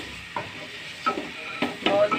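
Mixed vegetables (potatoes, peas and carrots) with masala stirred in a pan: a few distinct scraping strokes of a spoon against the pan over a light sizzle, close and alone.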